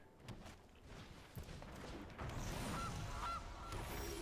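A goose honk sound effect from a Magic: The Gathering card game plays faintly, two short squawks amid soft thumps and a muffled room-noise background.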